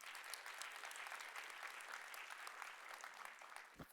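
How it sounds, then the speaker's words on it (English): Audience applause fills a World Food Day 2025 event, a steady, dense clapping from a crowd that holds evenly throughout and ends with a brief low thump. "Please give him a round of applause."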